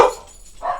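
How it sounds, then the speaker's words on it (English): Pet dogs yelp at home, two short barks close by with a quiet gap between them, no talking. "My dogs just decided it was time to yell."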